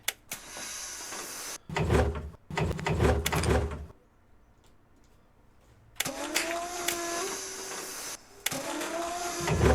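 The third door of a Skoda 21AB bus in OMSI 2 works through a series of mechanical clunks and hissing bursts, then a quiet pause, then a whining, rising door-motor sound with a further thud near the end.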